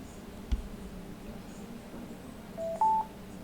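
Bose SoundLink speaker plugged in to charge gives two short electronic beeps, a lower tone then a higher one, faint against a quiet background hum, preceded by a small click.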